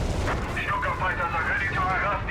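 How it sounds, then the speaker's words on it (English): Artillery fire rumbles from a battle in the video game Company of Heroes 3. A low boom rolls continuously with the tail of a blast, while someone commentator talks over it. "artillery being called in there"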